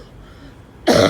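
After a near-silent moment, one loud, harsh cough bursts out close to the microphone, sounding rough like a throat being cleared.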